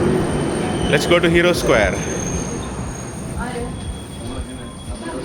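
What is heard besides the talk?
Budapest metro train at station, Metro Line M1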